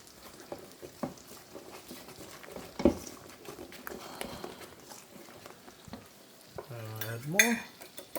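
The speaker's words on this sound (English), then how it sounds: "The steak is cooking." Steak cooking in a pan, a faint background sizzle with scattered clinks and scrapes of a utensil, one louder knock, and a brief squeaky scrape near the end.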